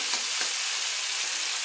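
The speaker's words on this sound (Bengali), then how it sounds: "তাই টমেটো গলে যাওয়া পর্যন্ত কিন্তু আমি তেলের সঙ্গে কষিয়ে নিচ্ছি টমেটোটাকে" Tomatoes fry and soften in hot oil for a vegetable dal, giving a steady, dense sizzle throughout with faint stirring scrapes near the start, no voices.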